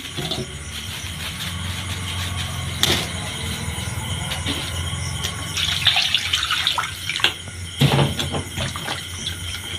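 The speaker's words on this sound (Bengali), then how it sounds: "তো চিকেনটাকেও ঠিক ধুয়ে নেবো সেমভাবে।" Raw chicken for a home-style biryani is rinsed under a running tap: a continuous loud stream of water splashes in the sink, with occasional knocks and sloshing bursts as the pieces are handled, and no voices.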